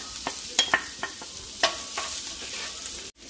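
Garlic sizzling in hot olive oil in a pan, a steady hiss broken by a few sharp crackles and pops, close up with no voices.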